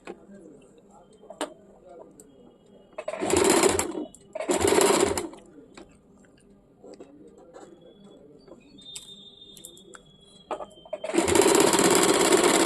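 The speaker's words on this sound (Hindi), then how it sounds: "इस प्रकार से एक एक करके पिन खोलते रहेंगे और सिलाई डालते रहेंगे।" A sewing machine stitches a waistband onto a salwar in three short, loud whirring runs, the last one longer, with faint clicks and handling noise in the quiet gaps between.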